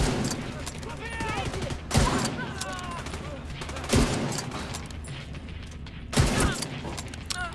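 Gunfire in the shooter Tom Clancy's The Division: sustained rattling weapon fire runs through the moment, with three heavier thumping shots standing out at intervals, mixed with game sounds and voices.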